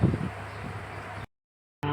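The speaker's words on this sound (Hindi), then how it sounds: "हमारे घर पे आज इतनी हवा चल रही है।" Strong wind blowing outside a house, a broad steady rushing roar with gusty low buffeting on the microphone, close and continuous until an abrupt cutout, then a brief humming return.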